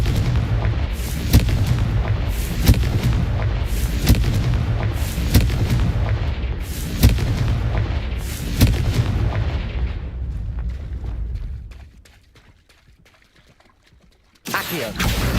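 Loud, repeated spell blasts from the Confringo fire spell in the Hogwarts Legacy video game, a rapid series of booming bursts over a dense roar, then a short quiet stretch before another blast hits.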